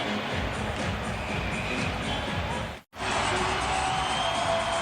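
A basketball arena crowd stands and roars during a late-game timeout between the Grizzlies and Lakers, a loud continuous wash of cheering with a brief cut in the middle.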